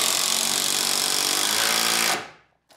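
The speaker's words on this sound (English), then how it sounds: "It just makes driving these big long screws that much easier." A power driver runs hard and continuously, driving a big long screw into wood for a raised bed planter box. The close, loud whine holds steady for about two seconds, then winds down and stops.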